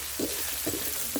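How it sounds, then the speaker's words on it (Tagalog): Bitter gourd (ampalaya) and egg, seasoned with black pepper and salt, frying in a pan while being stirred: a steady low sizzle with a few soft scraping pushes of the spatula, no talking. "Halo pa rin ng halo para yan maging luto yung ibang part ng itlog."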